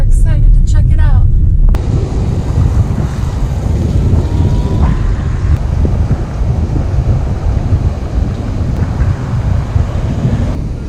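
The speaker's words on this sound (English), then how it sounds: "Completely windy, hopefully you can hear us." Heavy wind buffeting the microphone on a sandy beach at Canoa Quebrada in northern Brazil, a loud, constant low rumble lasting throughout, with brief talk at the very start.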